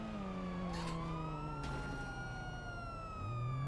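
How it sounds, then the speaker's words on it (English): Police vehicle sirens wail continuously in a video game, rising and falling tones sustained loudly throughout with a second siren joining, no talk over them. "Pull it out, we have lights and sirens on"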